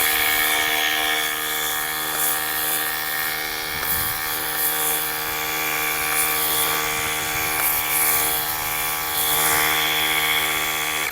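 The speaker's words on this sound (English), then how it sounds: "you'll notice that the compressor keeps turning on, and that's to ensure that it's maintaining the optimal pressure" A Simoniz cordless foam cannon's air compressor hums and whines continuously at a high pitch, loud and steady throughout, with faint handling noises underneath.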